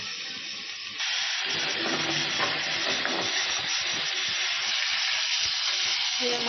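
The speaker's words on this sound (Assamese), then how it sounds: "মাছৰ ইয়াত তেল ওলাইছে আৰু এনেকৈ কম জুইতে অলপেই ভাজি থাকিব" Pigeon meat fries slowly in its own released oil over low heat, seasoned with spices and meat masala, giving a soft, continuous sizzle with occasional stirring scrapes, close by and steady.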